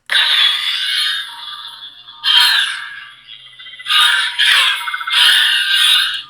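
Proffie lightsaber playing the Kyberphonic Darksaber sound font in its Beskar version, loud buzzing electronic hum and clash-like swells in several bursts with brief lulls, no talking.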